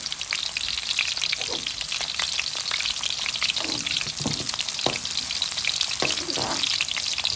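Carrots fry in plenty of hot oil with a dense, steady sizzle, crackling spatters and occasional utensil scrapes, close and loud with no talking.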